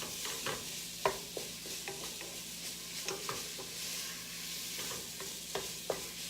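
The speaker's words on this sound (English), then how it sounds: "we're starting to brown our sausage" Italian sausage browns in a pan with already browned onions and garlic. A soft, steady sizzle runs under frequent light clicks and scrapes from stirring, close by and without talk.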